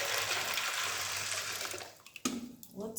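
Hot water pours steadily into a saucepan for about two seconds, then stops, followed by a brief clink and some quiet handling sounds.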